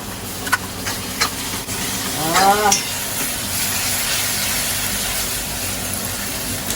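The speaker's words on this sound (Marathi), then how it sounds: "तर मसाला टाकायचा आहे वाटप केलेला" Ground masala frying with onion and tomato in a pan, giving a steady sizzle with stirring clatters near the start, close and moderately loud, with a brief voice-like sweep partway through.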